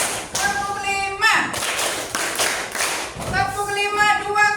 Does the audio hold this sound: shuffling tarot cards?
no